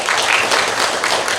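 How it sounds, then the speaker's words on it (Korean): A church congregation claps together to welcome newcomers during a worship service, a steady, dense patter of many hands filling the room for a moment with no talking over it. "우리 다 박수로 환영하겠습니다."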